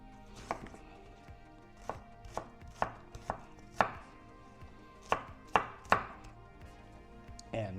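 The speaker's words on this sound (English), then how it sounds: "chop down the top, and then you look at how that dices that onion up" A hand chopper dices an onion with about ten sharp, close chops in an irregular rhythm, each a crisp crunchy strike with quiet pauses between them.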